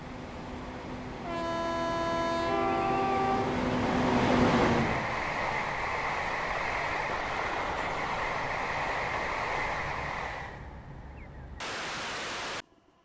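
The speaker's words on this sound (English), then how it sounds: "Next is the Class 360 Desiro electric multiple unit." A Class 360 Desiro electric multiple unit in a train simulator game, with a rising electric traction whine that settles into a steady rolling rumble and rushing noise before cutting off, then a brief burst of hiss.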